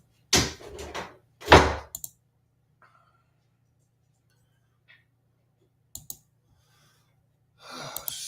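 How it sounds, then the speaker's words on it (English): A door bangs shut twice in quick succession, loud and close, then the room goes quiet apart from a few faint clicks and a soft rustle. "Just shut the door."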